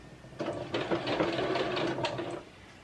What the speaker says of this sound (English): I'm going to hit my reverse button and go back a couple of stitches.